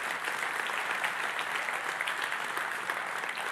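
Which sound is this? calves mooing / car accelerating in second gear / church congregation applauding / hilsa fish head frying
church congregation applauding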